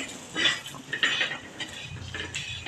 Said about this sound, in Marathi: मी खोबरं भाजलेलं आहे पण तरी ते आणखीन खमंग होईल आणि कांदा भाजून घेते